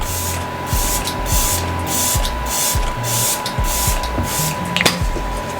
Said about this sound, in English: We're gonna go ahead and spray the face.